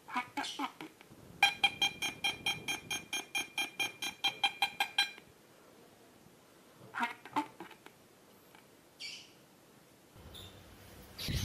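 Rapid electronic beeping of about a dozen pulses comes from a small speaker driven by a PAM8403 amplifier with a USB Bluetooth module on solar panel power. Scattered faint clicks and chirps follow.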